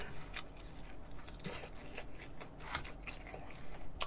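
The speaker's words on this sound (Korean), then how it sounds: "롯데리아 고스튀김 한입" Biting and chewing a Lotteria deep-fried snack that has cooled and lost some crispness: soft, scattered crunches and moist chewing sounds close to the mic, with no talk over them.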